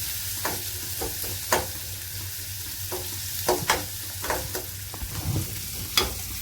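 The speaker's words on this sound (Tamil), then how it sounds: "இது போட்டு நல்லா மீடியம் ஃப்ளேமில் வச்சுட்டு நல்லா வதக்கி விடலாம்" Onion frying in ghee over a medium flame gives a soft, steady sizzle, broken by sharp scraping stirs and clinks of a spoon against the pan at irregular intervals, close by with no voices.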